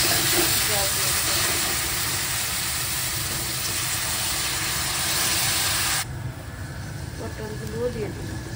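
Water is poured into a hot pan of frying vegetables at home, setting off a loud, broad sizzling hiss of steam that cuts down sharply partway through and is followed by quieter sizzle and faint talk.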